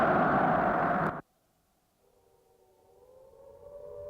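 An air raid siren wails loudly over Warsaw as war breaks out, cutting off abruptly, then a fainter distant siren slowly rises in the quiet that follows.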